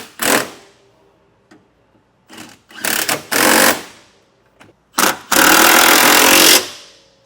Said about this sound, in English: Now we're going to run these down with an 11/16 socket,